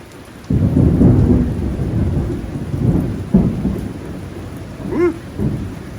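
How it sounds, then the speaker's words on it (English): Heavy rain pours steadily on a house in Antique, Philippines, while deep rumbles and cracks of thunder roll through, loud and close, with a few sharper bursts. "Starts raining hard."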